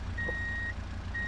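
An Arima Hestia minivan in BeamNG.drive sounds its reversing alarm: one long steady high beep, then the start of another after a gap, over a quiet low engine hum.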